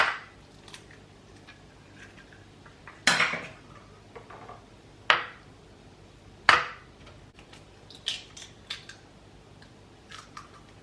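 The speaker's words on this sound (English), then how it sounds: "make sure you crack it properly. I'm gonna use about 4 eggs" Eggs cracked one after another against a hard edge for an omelette, a handful of sharp, close taps spaced a second or two apart in a quiet kitchen, with fainter clinks of shell and bowl between them.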